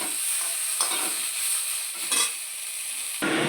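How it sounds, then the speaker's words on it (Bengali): Chopped onions fry in a pan on a home stove, with a steady close sizzle and hiss broken by a few brief scrapes of stirring. "আর এদিকে ডিম করবো, তার জন্য পেঁয়াজটা ভাজা হচ্ছে।"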